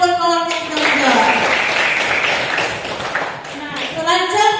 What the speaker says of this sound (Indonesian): tepuk tangan buat kawan yang kita menjawab.